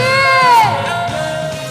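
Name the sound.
crowd cheering and shouting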